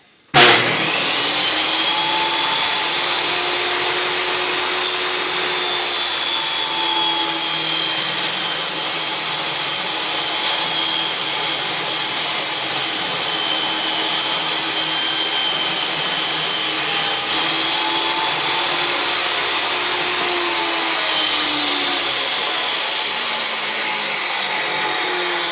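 A power saw cutting a bevel in a wooden fence picket, a loud steady whine starting abruptly and running without a break, with slight shifts in pitch as the blade moves through the wood.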